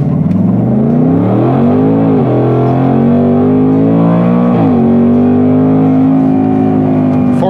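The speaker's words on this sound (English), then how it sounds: "the DCT sounds like you're in an exotic car shifting that thing" A modified 2024 Ford Mustang Dark Horse accelerates hard, with a loud, close engine note that climbs steadily and drops sharply at two quick gear shifts before rising again.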